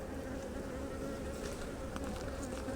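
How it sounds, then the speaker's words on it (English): Honeybees forage near a hive, producing a close, continuous buzzing drone that holds steady and alone for a few seconds. "These bees are doing some foraging."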